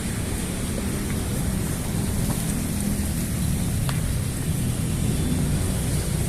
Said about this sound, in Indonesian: Masih hujan rintik-rintik doang.